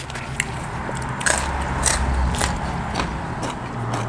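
Crunchy biting and chewing on a spicy Thai salad of raw river shrimp with fresh vegetables, close-up, steady wet crackles over a constant low background rumble.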